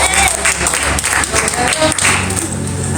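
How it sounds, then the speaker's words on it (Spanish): A short burst of applause from a group, brisk clapping filling the room for a few seconds. "Perfecto, un aplauso para Nahum."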